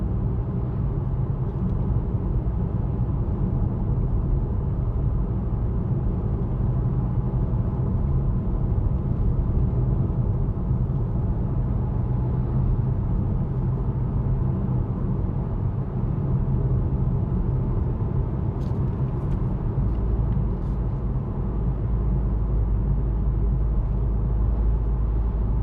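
Inside a 2021 Ford Puma ST on the move, a steady low engine drone and road rumble fill the cabin, constant and even throughout with no talking.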